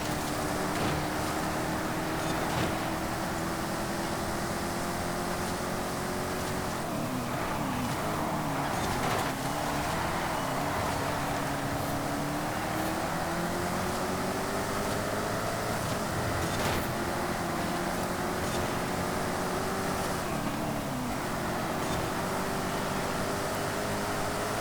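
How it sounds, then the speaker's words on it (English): A car's V8 engine in Forza Horizon 5 runs in a continuous drone, with rising and falling revs and gear changes across the whole stretch, loud and steady with no talk. "The sound of the V8 in this."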